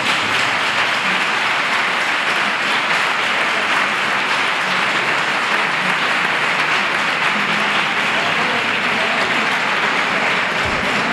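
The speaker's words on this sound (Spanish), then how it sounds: "Fuerte aplauso" Steady, dense applause from a large audience fills the whole stretch without pause, honoring a campanilleros choir at a choir gathering.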